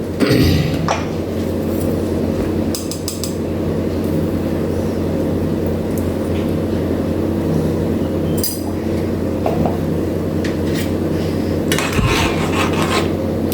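Ingredients being mixed with salt in a bowl for a lunchbox dish: steady loud rubbing and scraping with occasional sharp clinks of utensil on the bowl, continuous throughout with no talk.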